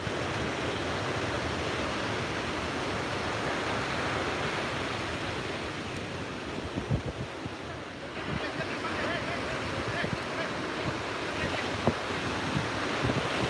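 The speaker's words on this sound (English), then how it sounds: "The waves are rolling that net." Ocean surf washes steadily onto the shore at Umzumbi flats on the coast, a continuous broad roar of breaking waves mixed with buffeting wind noise on the microphone, no voices.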